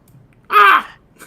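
A single loud, close bird caw played as a sound effect, one harsh wavering call lasting about a third of a second, with faint murmuring before and after.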